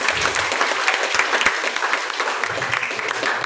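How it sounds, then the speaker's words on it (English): Audience applause fills a college agriculture and forestry seminar, a dense, steady patter of many hands clapping at close range. "A round of applause, please."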